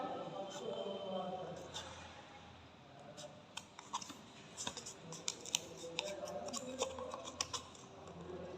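Scissors snip through the rim of a paper cup during a children's gift-wrapping craft, giving a run of small sharp clicks and crunches that grow busier in the second half over a low room hum.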